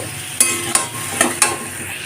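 Pointed gourd and potatoes fry with spices in a pan, a steady sizzle punctuated by four sharp scraping stirs of a spatula, close up and without speech.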